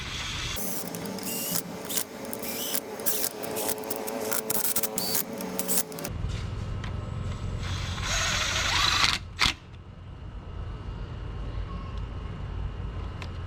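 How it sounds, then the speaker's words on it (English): Mechanical clicking and ratcheting as bolts are tightened on the water pump of a KX125 dirt bike, a dense run of close, rapid clicks in the first half giving way to softer tool handling and scraping, with no talk. "So now that I got them all snugged up a little bit"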